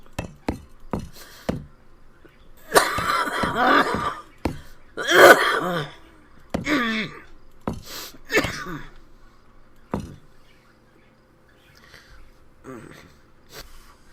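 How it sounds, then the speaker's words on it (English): A man with bronchitis and COPD goes through a coughing fit: a string of harsh, close coughs and throat clearing in uneven bursts, separated by pauses and fading toward quieter gaps at the end. "Little bit of a coughing fit had to be dealt with."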